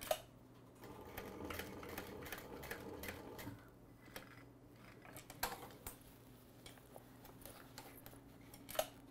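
A sewing machine stitches a bag in bursts of steady, rapid needle chatter, pausing briefly between runs for pivots, close and fairly quiet with no talking.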